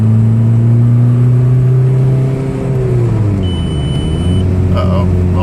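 A VW TDI diesel car accelerates in third gear, a loud steady engine drone that climbs in pitch, with a faint high whine near the end.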